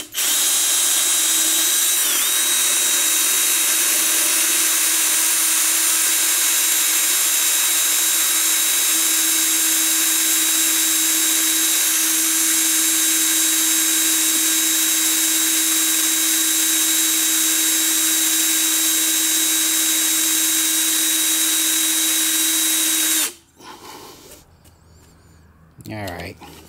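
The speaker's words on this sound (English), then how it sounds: "I'm just going to work up to another larger size center drill." A drill spins with a steady high whine for over twenty seconds, a center drill boring into metal while removing a broken exhaust manifold stud, then cuts off abruptly.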